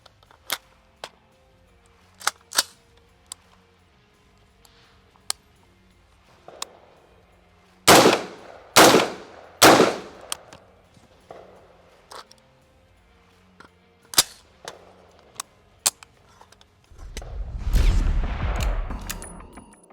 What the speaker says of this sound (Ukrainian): Зброя готова до застосування. А тепер ідемо стріляти.